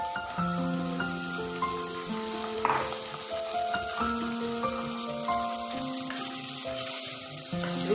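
Baby corn stir-fries in a pan for a mushroom and baby corn dish, a continuous hissing sizzle with occasional stirring scrapes beneath soft sustained background music.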